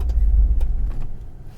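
Old Chrysler New Yorker, long unused, pulling away: a deep, loud low engine rumble that eases off toward the end, heard alone.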